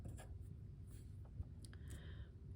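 A pencil drawing template outlines on paper for a complex clay slab project makes soft, faint scratching strokes close by with a low steady background hum.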